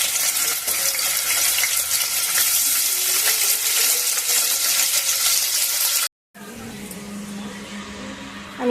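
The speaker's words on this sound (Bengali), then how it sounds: "প্রথমে আমি পনিরগুলো ভেজে নেব।" Paneer cubes sizzle and crackle steadily as they fry in hot white oil in a wok, a loud continuous hiss that cuts out briefly before resuming.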